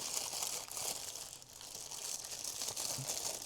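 Continuous crinkling of a plastic bag, close and steady throughout, with soft rustles and crackles and no talking.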